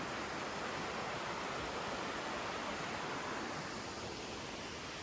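Creek water at Fires Creek, North Carolina, near a horse camp, rushing in a constant, full wash of noise, close and steady, with no talk.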